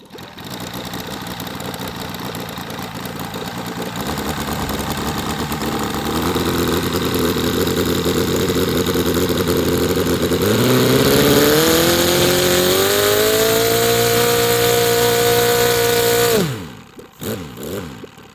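A large RC airplane's glow engine catches and runs steadily, then climbs to a loud, higher-pitched drone for several seconds before abruptly cutting to near silence at the end.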